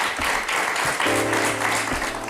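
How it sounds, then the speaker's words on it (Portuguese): Applause from a Portuguese television studio audience on an afternoon talk show, a short, fairly steady burst of many clapping hands at moderate level, with a low hum underneath. "Eu peço um aplauso para a Maria de Lourdes Mata."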